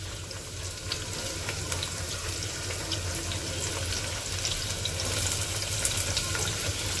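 Onions frying in oil in a home kitchen pan give a steady, close sizzle with crackling bursts that runs evenly throughout, with no talking.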